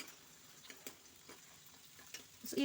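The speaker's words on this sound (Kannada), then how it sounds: "ಈರುಳ್ಳಿ ಮತ್ತೆ ಬೆಳ್ಳುಳ್ಳಿ ಕಟ್ ಮಾಡಿಟ್ಟಿದ್ನಲ್ಲ ಒಂದೊಂದು ಅದನ್ನ ಎಣ್ಣೆಲಿ ಫ್ರೈ ಮಾಡ್ಕೊತೀನಿ" Soft, steady sizzling of onion and garlic frying in oil in a pan, with faint ticks and stirring scrapes, fairly quiet and without talk.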